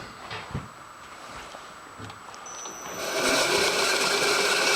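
A metal lathe in a workshop cutting a radius on the top edge of a part, starting as a faint whir and swelling into a louder, steady high-pitched machining hiss for the last couple of seconds.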